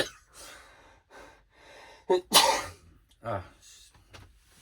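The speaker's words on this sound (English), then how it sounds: "Nothing worse than when you're doing a video and you start to sneeze." A sharp, loud sneeze bursts out near the middle, framed by quick gasping breaths and a smaller sneeze-like snort after; no words spoken.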